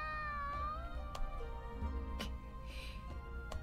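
A cat meows several times in Sword Art Online Alicization Lycoris, plaintive rising and falling cries heard close and clear over a low background hum, with a few short clicks between them.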